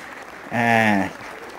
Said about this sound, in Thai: กองเชียร์เบนวูดก็ยังปรบมือ ให้กำลังใจเพื่อนร่วมทีมครับ